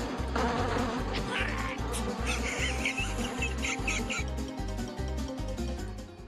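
Robotic wasps buzz in a Wacky Races video game cutscene, a continuous insect-like drone layered over a steady, pulsing low beat.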